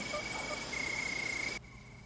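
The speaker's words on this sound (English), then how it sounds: "As she heads out, sun starts to set, the crickets begin to sing." Steady insect-like chirping of crickets at sunset, a continuous high trill over a faint background that drops away abruptly near the end.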